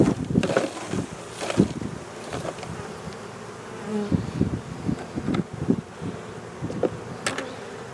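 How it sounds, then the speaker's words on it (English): Honey bees buzz loudly and steadily at close range as they are shaken from a hive frame down into a bucket, with sharp knocks and thumps punctuating the drone. "I am going to shake those bees down into that bucket"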